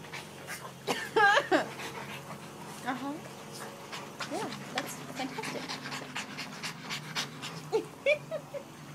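A dog pants rapidly and steadily up close, with a few whimpers mixed in, while a person talks over it.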